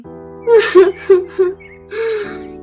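A voice gasps and sobs in short, broken bursts, then lets out a longer wavering cry, close and fairly loud.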